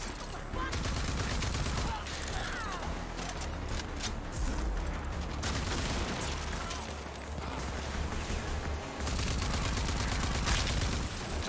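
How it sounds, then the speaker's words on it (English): Enemies fire rocket launchers in the video game Rage 2 amid dense, continuous gunfire and blasts that run for several seconds, loud and close, with a voice talking at times. "Guys with the rocket launcher trying to kill me."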